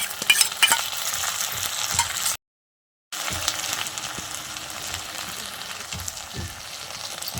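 Onions, ginger and garlic sizzle loudly in a pan while a spoon stirs and scrapes, with the sound briefly cutting out before the frying resumes.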